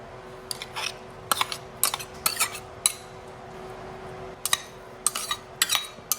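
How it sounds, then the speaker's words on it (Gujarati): Salad is tossed in a bowl with a utensil, giving scattered bright clinks and taps against the bowl in short clusters, close and fairly quiet. "આ બધું સલાડ આપણે મિક્સ કરી દઈશું એક બાઉલમાં"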